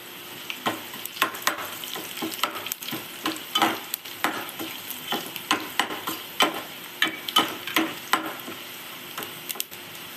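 Urad dal, cumin, mustard seeds and curry leaves crackle and sizzle in hot oil for a South Indian tempering, with a repeated tick of stirring and popping seeds over a steady fizz, close up and without talk.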